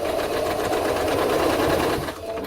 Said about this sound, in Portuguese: E vai costurando.